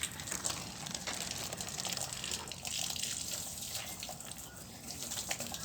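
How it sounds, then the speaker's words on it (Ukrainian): Drinking water gushes steadily from the tap of a public well-water pump on a Kyiv street, a continuous splashing stream with outdoor background noise. "Б'ювет, тут можна набрати воду питну свердловини."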